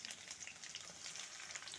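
Onions dropped into hot oil with tempering spices for a bottle gourd and chana dal curry, giving a continuous close crackling sizzle with light stirring scrapes and no voices.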